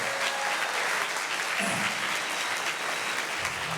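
An audience of students, teachers and families applauds at a school awards day, a thick continuous wash of clapping from many hands, loud and unbroken.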